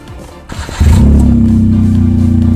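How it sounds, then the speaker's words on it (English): A Smart car with a modified exhaust is revved while in park, a few quiet clicks and rattles giving way to a sudden loud, deep droning engine note that holds steady at high revs up close. "car won't only let you rev it to 3 grand while it's in park"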